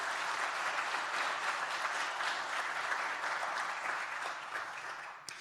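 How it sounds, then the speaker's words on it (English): Sustained applause from a tech forum audience for its sponsors and speakers, a dense, even wash of many hands clapping that holds steady for several seconds and then eases slightly at the end. "if everyone could give a round of applause to those folks, and, as well as the speakers we have today"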